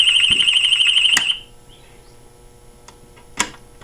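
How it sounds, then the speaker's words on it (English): An electric gate opener that has hit its limit sounds a loud, high, steady electronic alarm beep for about a second. Then it cuts off, leaving a quiet background with a few sharp clicks. "It's got an alarm on it."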